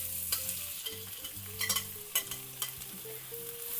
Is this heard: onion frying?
yes